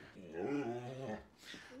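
A dog growls low at people standing around a car outside, a short rumbling growl that rises and fades, heard indoors at moderate volume.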